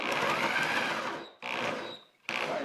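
A power tool bores a recess into a hole in a scrap wood shelf, with three sustained whining runs, the first long and steady, each cutting off abruptly with brief pauses between, close up and loud.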